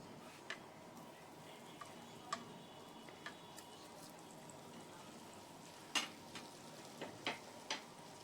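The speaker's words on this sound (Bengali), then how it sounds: "এবার আমি বাটার দিয়ে পনিরগুলো ভেজে নেব" Faint, quiet sizzle of paneer frying in butter, with occasional soft ticks and pops scattered through a low steady hiss.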